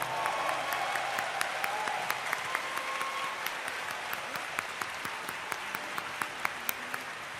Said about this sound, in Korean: 소중한 공연 만들어주신 모든 출연진분들께 다시 한번 큰 박수를 부탁드립니다.